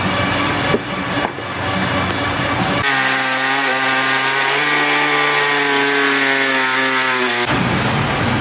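A pneumatic air saw trims plastic during a snorkel install on a Ram 1500, starting with rough cutting noise, then a loud, steady high-pitched whine for several seconds before cutting off abruptly.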